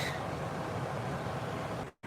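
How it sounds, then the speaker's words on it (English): Car air conditioning blows a steady, soft whooshing hiss that cuts out briefly just before the end. "what you're hearing is the air conditioning"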